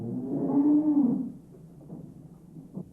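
A single cow gives a loud, close moo that swells and then fades, followed by quieter low rumbles.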